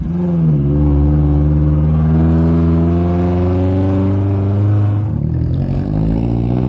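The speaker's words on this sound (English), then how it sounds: "And there are a lot of minibuses here." Orange minibuses drive near Kawah Putih, the white crater in Java, their engines a steady, close, droning hum that holds level and then shifts near the end.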